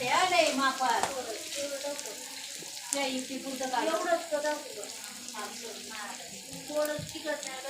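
Thinly sliced onions sizzle and fry in a pan over a wood-fired stove for chicken biryani, a steady hiss running beneath someone talking throughout.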